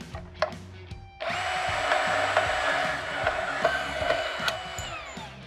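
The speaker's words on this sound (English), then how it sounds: "We're gonna take these 70 inch or 6 foot tension bars and we're gonna cut 2 inches off of them." A steady power-tool whine cuts through a 6-foot steel chain link fence tension bar, running continuously for several seconds after a few brief knocks at the start, fairly loud and close.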